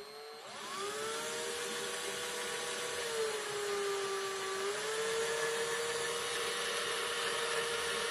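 A power drill with a wood bit spins up and bores through a plastic RC car body for a 1972 Chevy C10, a whining motor tone that rises, dips under load and then holds steady, close and alone.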